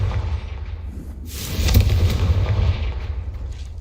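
The Confringo spell in Hogwarts Legacy erupts as a deep, rumbling blast with a sharp crackling burst at its peak, loud and close, then fades into a low roll with no voices.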